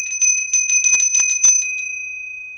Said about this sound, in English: I love listening to the bell, and I love following that note all the way out into the air.